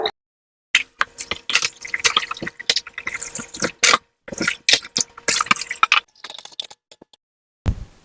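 Vegetables, beetroot and onions, being washed by hand in a bowl of water while making a beetroot milk curry: irregular close splashes, drips and squishy sloshing in bursts, with short silent gaps, no talk.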